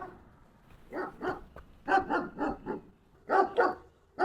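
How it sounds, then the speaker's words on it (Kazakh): A dog barks repeatedly nearby, loud clusters of sharp woofs with short pauses between them, no other sounds around. "Үйінде ит бар ау деймін."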